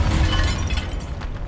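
A Bombarda spell blast in Hogwarts Legacy erupts as a loud, dense, crashing burst with a shattering, debris-like texture, sustained across the moment without any voices.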